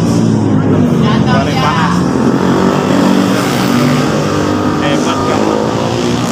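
A mini GP motorcycle ridden by a seven-year-old leans through a corner on a race track, its engine a loud, steady drone that never drops out, with an excited voice talking over it.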